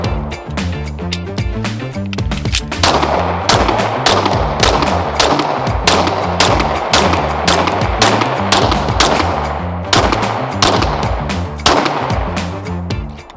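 A Lone Wolf Dusk 19R pistol fired with Blazer 124 grain ammunition at a range, a long string of loud, close shots in quick but uneven succession, with brief gaps between strings.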